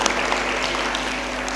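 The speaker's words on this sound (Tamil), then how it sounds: "பெரிய கைத்தட்டு உங்களுக்கு." Fairly soft, even applause from an audience at a children's Little Krishna stage performance after a song, a continuous patter of clapping over a low background hum.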